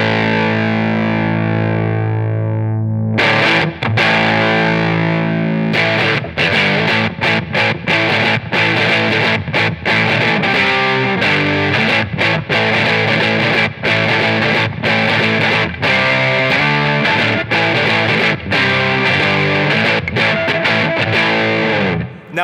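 Electric guitar driven hard through a Catalinbread Dirty Little Secret Deluxe overdrive pedal, opening on a ringing sustained chord, then breaking into loud, saturated, rhythmic riffing with choppy stabs and steady chord hits throughout.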